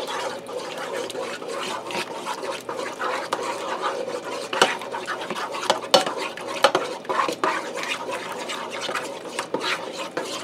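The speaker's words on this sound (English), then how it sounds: "I'm just giving it a rough stir quick to break them eggs up and scramble them." Eggs are stirred and scrambled with a utensil in a Copper Chef XL pan, busy scraping and clinking strokes against the pan, close and continuous.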